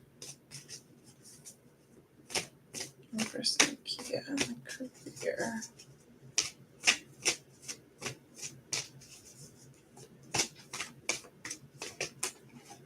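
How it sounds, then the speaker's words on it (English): Tarot cards are handled and shuffled with sharp, irregular clicks and soft rubbing, close up, while a voice speaks quietly at times. "So I'm going to start shuffling."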